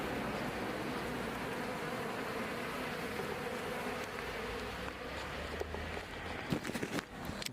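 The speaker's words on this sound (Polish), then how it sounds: "W życiu nie widziałem tak dużo pszczół naraz w jednym miejscu." A huge swarm of bees buzzing in one spot on a misty Caucasus road trip, a steady dense drone filling the air, with a few sharp knocks and rustles toward the end and no talk.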